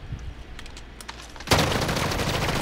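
A firing squad in a video game opens up with a sudden sustained barrage of gunfire, a dense continuous roar of overlapping shots after a quieter lead-in.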